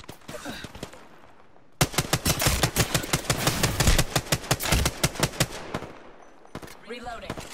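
Rapid automatic gunfire from a weapon in the Apex Legends video game, a sustained burst of sharp, evenly spaced shots lasting several seconds, loud and close, with brief game noise before and after.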